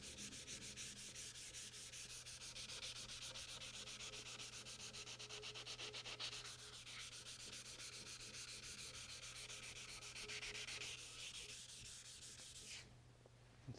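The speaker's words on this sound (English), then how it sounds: "now down here you want to sand right up to the edge using the flat of your hand and your fingers" Steady hand sanding of a restored Delta Unisaw surface, worked right up to the edge with the flat of the hand and fingers: a continuous soft rasping scrub at close range, with no talk.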